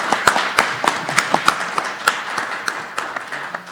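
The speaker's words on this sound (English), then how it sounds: "please join me in a round of applause in thanking all of them." An audience at an open-data scholarship talk claps for the panelists and guest speaker: a near, sparse round of individual hand claps with sharp, irregular hits.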